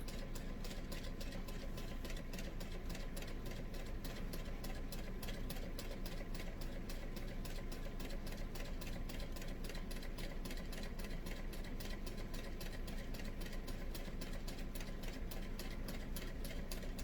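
A sewing machine stitches slowly down the side of a tote bag, giving a steady, rapid mechanical whir and clatter that runs evenly and close-up for the whole stretch with no talking.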